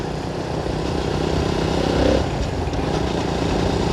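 A KTM Duke motorcycle engine drones steadily while riding, a loud continuous buzzing roar mixed with wind rush, swelling briefly in the middle.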